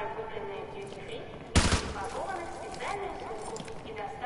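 A sharp burst of gunfire from the video game Call of Duty on PS4 cracks out once, loud and brief, over a steady background of game noise and a talking voice.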